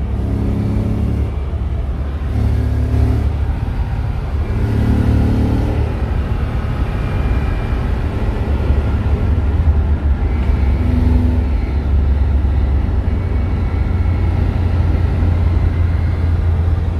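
Toyota Land Cruiser V6 car engine held at high revs, a loud, steady low rumble droning throughout with slight swells, close by and without talk.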